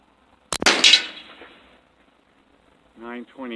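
A single sharp crack from an Ataman M2R Type 2 .357 PCP air rifle fires close by and rings off into a fading echo. A voice speaks briefly near the end.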